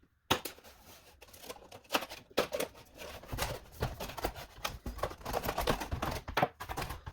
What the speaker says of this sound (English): Let's go ahead and cut this sheath out of here.